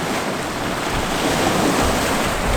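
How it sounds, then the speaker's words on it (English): Water flows past at a night-time outdoor spot, a steady broadband rushing hiss that stays loud and constant throughout, mixed with some wind buffeting. "We have that water flowing right there, going in"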